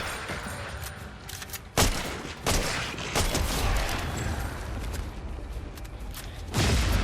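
Repeated DMR rifle gunfire aimed at wolves in a video game, with several sharp shots over a steady, dense background of game noise.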